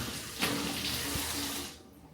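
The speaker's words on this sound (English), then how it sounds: "Rinse the 1/2 cup out." Tap water runs steadily, close by, to rinse out a half-cup measuring cup, with a brief change as the cup passes under the stream before the flow cuts off.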